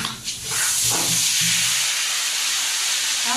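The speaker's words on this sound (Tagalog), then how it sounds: "pansit canton. Ayan. Nagigisa na." Pancit canton noodles stir-fried in a hot pan give off a loud, steady hiss of sizzling that builds quickly after a few soft clatters and holds for several seconds, with no talk over it.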